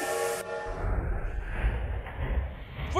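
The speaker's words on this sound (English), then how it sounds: "ride the toy train, choo-choo, all aboard" A toy train ride in a Roblox toyshop obby rumbles along with a steady low rolling drone and a brief whistle-like tone at the start, loud and continuous throughout.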